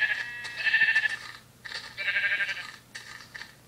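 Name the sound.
sheep bleating in video game Minecraft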